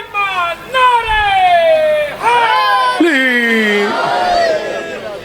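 A large crowd at an imambargah majlis chants religious slogans in loud unison, with drawn-out, rising and falling calls from many voices overlapping, alternating bursts of chanting with a brief pause, close and forceful.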